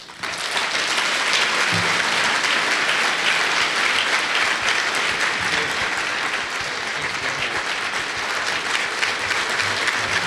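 A large audience at the Elmhurst College Governmental Forum applauds to welcome Governor Jeb Bush, producing steady, dense clapping that fills the hall for about ten seconds without a break.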